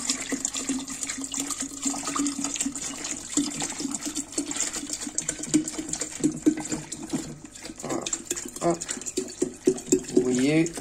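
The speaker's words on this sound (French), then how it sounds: "je prends l'eau, mes 2 litres, et je les verse" Two litres of water poured into a container for lemon kefir, a steady splashing rush that runs for several seconds while someone talks over it.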